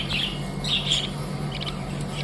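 Budgerigars and rainbow budgerigars in a cage chirp in short bright bursts, close by and fairly loud over a steady low hum, no voices present.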